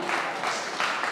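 An audience at a Jain religious discourse at Atishay Kshetra Patnaganj breaks into a short burst of applause, steady clapping from a crowd lasting about a second.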